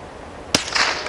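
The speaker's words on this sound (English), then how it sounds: "We got 5 more rounds of CCI Blazer. They sound good, I tell you." A single sharp crack from a .22 Long Rifle firing a CCI Blazer round, sounding once at close range in an outdoor setting with a short rough tail after it.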